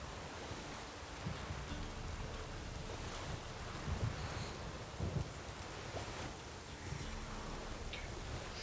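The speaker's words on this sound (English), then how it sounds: "There's no way I could sit out here fishing in the rain." Steady rain hisses down in Witcher 3 while soft, dull rumbles of thunder roll in now and then, spread evenly through the clip with no talk.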